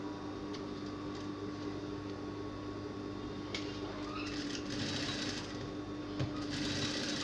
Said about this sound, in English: flip it like this and top stitch here all the way down so that the pocket will sit very well inside the dress